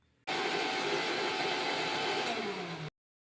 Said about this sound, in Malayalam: ഇനി അത് മിക്സിയിലൊന്ന് അടിച്ചിട്ട് മസാലയിലേക്ക് ഒഴിച്ചു കൊടുക്കണം.